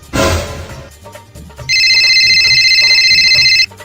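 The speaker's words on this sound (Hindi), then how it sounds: "अरे ये किसका फोन आ रहा है फिर?" A telephone ringtone plays as a steady, shrill electronic trill for about two seconds, following a short burst of noise, with faint background sounds and no speech.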